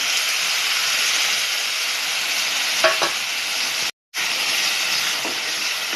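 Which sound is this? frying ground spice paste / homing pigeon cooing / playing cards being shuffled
frying ground spice paste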